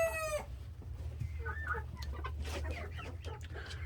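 A black rooster and other chickens in a pen, on a rainy day, produce a loud crow at the start followed by scattered clucks and short calls over a low steady rumble of background noise.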